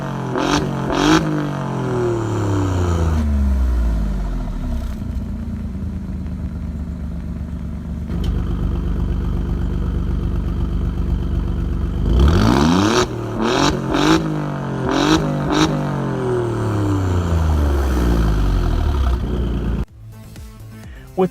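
An Alfa Romeo Giulia Quadrifoglio engine revving hard through its drive modes, with repeated loud accelerating sweeps, a steady throaty drone between them, and a second burst of revs before an abrupt cutoff.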